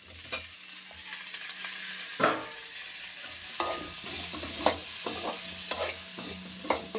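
Tomato frying with ginger, garlic and spices in a pan for Chettinad country chicken curry, a steady sizzle punctuated by repeated sharp spatula scrapes and stirs, close and clear with no voices.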